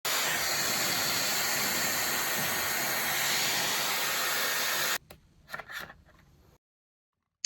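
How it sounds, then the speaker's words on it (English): Dyson Airwrap rough-drying hair, a loud steady rushing blast of air running continuously before cutting off abruptly, followed by a few soft handling sounds and then silence. "So the first thing I like to do is rough dry my hair just to get it a little bit dry before going in with any of the other styling tools."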